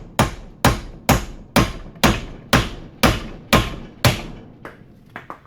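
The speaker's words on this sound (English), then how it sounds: "Now that it's cracked open, I can just hammer this thing out" Hammer blows drive out a worn wheel bearing on a 2003-2015 Lexus GX470, nine loud, evenly spaced metallic strikes close by, followed by a few lighter taps at the end.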